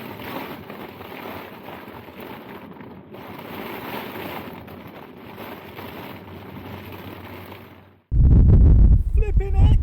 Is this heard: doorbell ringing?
no